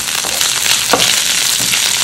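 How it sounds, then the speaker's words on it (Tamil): Onions frying in hot oil with ginger and garlic for a Gobi Manchurian base, a loud continuous close sizzle with faint stirring scrapes, no talk. "இஞ்சி பூண்டு லைட் கோல்டன் ப்ரௌன் வந்த உடனே நான் வந்து ஆனியன் ஆட் பண்ணிக்கிறேன்."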